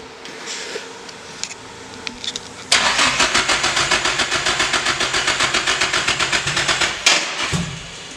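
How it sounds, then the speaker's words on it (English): A Datsun 280Z fitted with an SR20 engine and no exhaust fires up for the first time: a low crank, then at about 2.7 s a loud, harsh rapid-firing idle with a steady pulsing rhythm, close and unmuffled. "hear what an SR20 with no exhaust sounds like."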